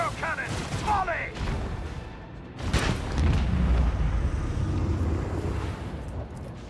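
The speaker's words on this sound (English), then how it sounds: "Macro cannon, volley!" Macro cannons fire a volley in Warhammer 40k: Rogue Trader, a heavy booming blast followed by a sustained rumbling roar, after a brief burst of sound effects.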